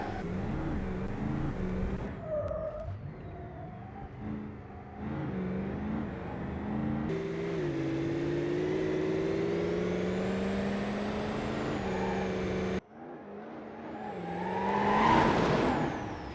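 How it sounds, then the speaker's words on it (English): Off-road car in BeamNG driving through a jungle map, mostly on roads: a steady engine drone with rising and falling pitch under wind-like whir, a brief gap near the end, then a louder revving surge. "This is the off-road version, and I've taken it to the jungle to, well, mostly drive on roads."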